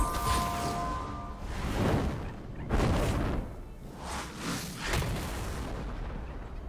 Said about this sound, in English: the double super mega death rocket